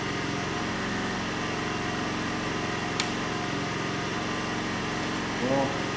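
A small junk tiller engine running steadily at a close, even drone with a fast rhythmic chug throughout, a faint click midway and a short rise in pitch near the end.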